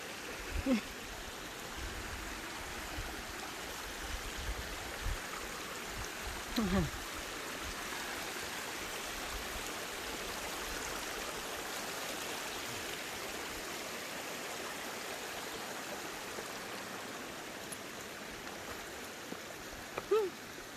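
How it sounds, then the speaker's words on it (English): A small river flows across a hiking trail in the French Alps in autumn, giving a steady, even rush of water that runs unbroken for the whole stretch, with a few faint distant voices. "We are crossing a small river."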